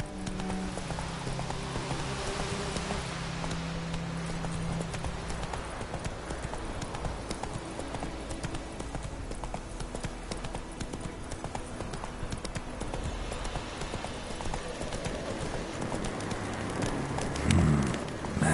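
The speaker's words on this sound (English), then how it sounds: "Whoa there, Roach." A horse gallops in The Witcher 3, a fast, steady clip-clop of hooves running throughout over a continuous wash of ambient game sound, with faint bird calls.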